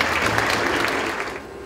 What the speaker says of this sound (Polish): brawa, moi kochani